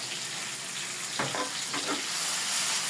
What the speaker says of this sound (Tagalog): Ginisa ko na po yung bawang.